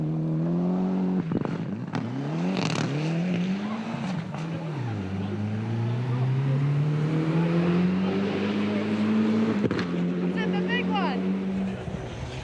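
Nearly 30-year-old Group A four-wheel-drive rally car racing past, its engine loud and near, rising and falling through gear changes with brief off-throttle drops and a sustained high-revving pull, while a voice talks over it.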